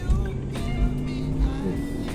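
Mercedes-Benz W205 C180 with an AMG kit, its engine droning steadily from inside the cabin while shifting down to second gear, with a voice speaking over it.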